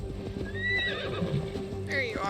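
In Assassin's Creed Valhalla, a horse gives a rising whinny over the clip-clop of hooves, and someone talks over the sounds near the end.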